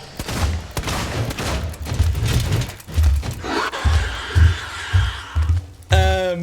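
Revolver shots in the Alien: Isolation game, a string of sharp booming reports at an uneven pace over busy game noise, loud and close, ending with a brief rising electronic tone.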